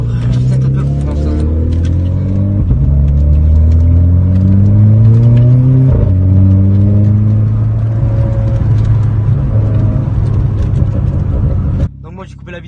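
A Renault Clio 4 RS engine runs steadily while warming up, with rising and falling revs that sweep up in pitch and settle back several times. It stays loud and close throughout, then cuts off abruptly near the end.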